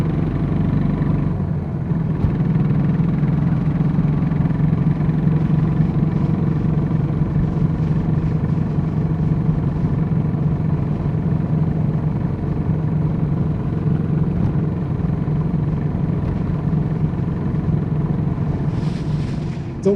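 Motorcycle engine running steadily on the open road, a continuous mid-pitched drone with wind rumble that holds loud and close for the whole stretch.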